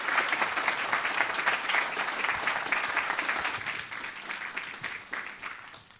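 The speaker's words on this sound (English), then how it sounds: "a big round of applause" An audience at a serverless testing tech talk claps together, a dense, steady applause that holds for several seconds and then starts to thin out toward the end.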